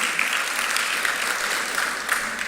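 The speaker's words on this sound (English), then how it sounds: "a round of applause, please?" Steady audience applause at an investment event for Jamaicans returning home, dense clapping with a few sharper claps, sustained evenly for a couple of seconds.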